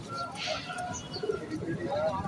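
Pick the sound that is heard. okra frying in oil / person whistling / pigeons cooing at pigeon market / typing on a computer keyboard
pigeons cooing at pigeon market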